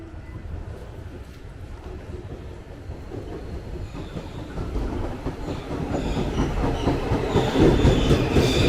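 A Tokyo Metro 6030 series eight-car commuter train rolls past on the Jakarta KRL line, its rumble and clickety-clack building steadily louder and closer toward the end.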